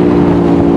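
Stock motorcycle engine held at a steady, loud, close rumble with a strong low hum and no pauses.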